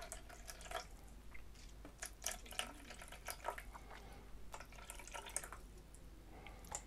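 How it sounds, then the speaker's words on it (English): Water poured into a measuring jug, about 100 grams, a light trickling and splashing that stays quiet and close, with small irregular drips and spatters running throughout and no talk over it. "So let's just pour in 100 grams here of this water"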